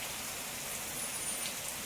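Heavy rain pours down outdoors during a trip, a constant broad hiss of downpour that stays steady and fairly loud, with no voices over it.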